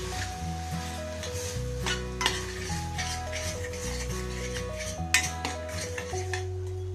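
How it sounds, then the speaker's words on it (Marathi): Spices such as red chili powder, turmeric, coriander and cumin sautéing in a pan for a coconut milk prawn curry: continuous sizzling with utensil scrapes and stirring over a steady low hum, with background music underneath. "मसाले घातल्यानंतर एक 2 ते 3 मिनिटं चांगले परतून घ्यायचे"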